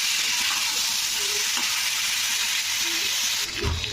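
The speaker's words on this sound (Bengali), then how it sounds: "সবজিগুলো দিয়ে কিন্তু এটা ভালো করে সবজিগুলোকে কিন্তু ভাজতে হবে" Vegetables fry in a pan, a steady, close sizzle of hot oil that runs throughout, ending with a brief clatter as the pan is stirred.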